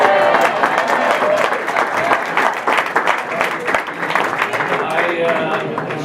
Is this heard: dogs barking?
no